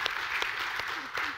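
An audience at a talk on the Norwegian economy gives a brief burst of clapping, a short, steady patter of hands at moderate volume.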